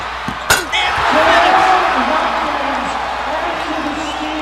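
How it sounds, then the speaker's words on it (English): Home basketball arena crowd at a Fresno State versus Nevada game roaring after a steal, a dense sustained cheer with a sharp bang near the start, a commentator talking over it. "Listen to this crowd."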